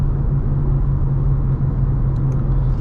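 Engine of a BMW G87 M2 running the M2CS tune, a steady loud low rumble with a slight rise under light throttle, no voices.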